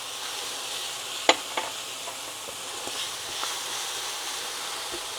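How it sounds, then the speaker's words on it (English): Bacon sizzles in a pan while being stirred, a quiet steady frying hiss with a few sharp clicks and scrapes of the utensil, close by and without talk. "As we stir this, we're looking at the bacon to see if it's getting cooked enough to add more ingredients."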